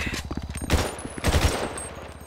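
A gasoline fire gun from a GTA V mod menu fires rapid automatic bursts, with fast regular pops building into two louder blasts near the end.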